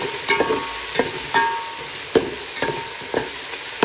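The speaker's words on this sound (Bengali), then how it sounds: "এগুলো ভালো করে কষিয়ে নিতেছি" Garlic, onion, green chili and tomato sautéing in a pot, a steady close sizzle broken by several sharp scraping stirs spaced about every half second to second.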